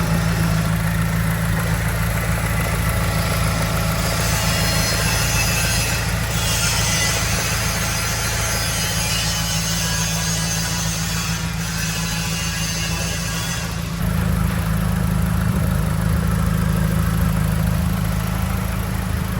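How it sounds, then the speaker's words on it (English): An Alfa Romeo 159 2.2 JTS petrol engine idling after an alternator replacement: a steady, loud, even hum with constant broadband mechanical noise, shifting slightly in pitch partway through, heard up close with no voices. "so it is running and it is having good voltage"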